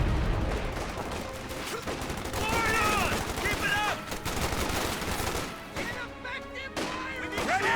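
Dense gunfire and explosions in the World War II strategy game Company of Heroes 2, with fusillades, machine-gun bursts and crashing impacts running continuously throughout, loud and close, while a voice shouts briefly amid the battle.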